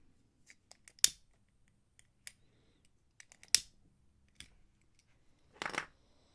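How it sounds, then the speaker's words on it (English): Scissors snip through beading cord in a quiet room: three or four crisp, separate cuts with soft handling clicks between them, no voices. "Once you have that, snip it off."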